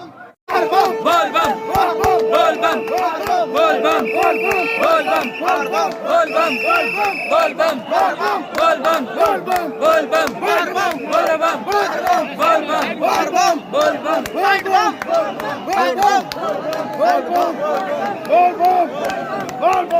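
Huge crowd of kanwar pilgrims at Basukinath temple, a loud continuous roar of massed chanting and shouting voices with rhythmic cries repeating close by for the whole stretch.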